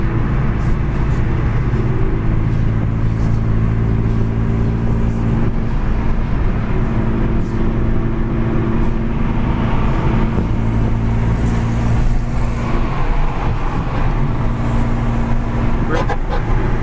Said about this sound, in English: did a quick little flyby for you guys with the catalyst downpipe